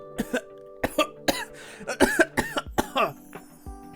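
A person coughs repeatedly in short, dry bursts, about a dozen irregular coughs in close succession with brief pauses and throat clearing. The sound is near, moderately loud and without other voices.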